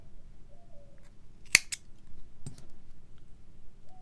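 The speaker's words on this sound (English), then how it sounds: "and cut your yarn" Scissors snip through crochet yarn, a single crisp close cut with a small second click just after, set against quiet room tone.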